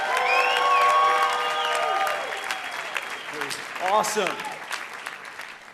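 A crowd applauds and cheers as a speaker walks onto the stage at a coaching event, with a large group from Vernon, BC among them. Dense clapping under loud music fades after a couple of seconds, and a voice speaks briefly.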